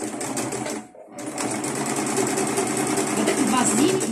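Domestic sewing machine stitching faux leather (skai) for spoon pouches, running steadily and close with a brief pause near the start, then a continuous whirring hum.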